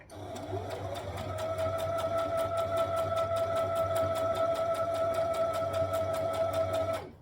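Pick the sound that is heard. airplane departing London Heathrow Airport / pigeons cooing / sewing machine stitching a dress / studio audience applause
sewing machine stitching a dress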